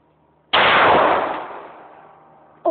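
A single loud gunshot cracks at an indoor shooting range, sharp onset followed by a long reverberant decay, with another shot starting right at the end.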